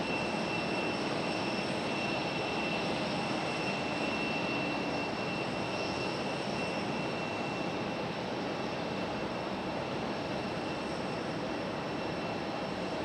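Breeze Airways Airbus A220 jet airliner taking off at Raleigh-Durham International, a steady broadband engine roar with a high turbine whine, constant and fairly distant throughout, with no voices.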